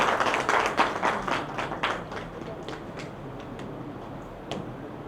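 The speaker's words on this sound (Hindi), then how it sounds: "जोरदार तालियों से उनका स्वागत है" Audience applause greets a senior poet and writer at a Hindi-Urdu mushaira and kavi sammelan, a burst of clapping that is strongest at first and then thins to scattered claps, with talk running faintly beneath.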